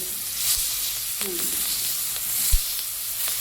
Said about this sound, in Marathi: अशा मिरच्या तळवून घ्यायच्या